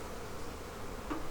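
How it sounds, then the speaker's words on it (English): Honey bees swarm over an opened hive frame during a fall inspection of a bee barn, a steady close buzzing drone with no talk. "We have a lot of bees there."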